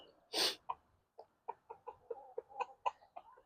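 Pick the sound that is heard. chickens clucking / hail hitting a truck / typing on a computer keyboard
chickens clucking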